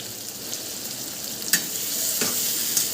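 Stuffed brinjals with spice masala frying and being stirred in a pan, giving a steady close sizzle with a few louder scraping stirs, no voices.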